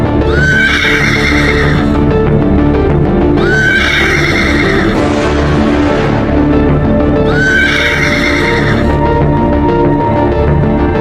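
A stallion whinnies loudly and repeatedly while fighting a pack of wild Komodo dragons, long shrill neighs recurring every few seconds over a constant dense backdrop, with no talk.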